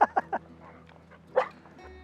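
A border collie near cows gives three quick, sharp yips close to the listener, then goes quiet under soft rural background noise before letting out one more whimpering bark.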